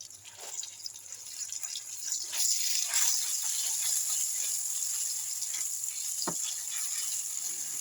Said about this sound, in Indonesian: Panaskan minyak dan tumis bumbu yang udah dihaluskan tadi.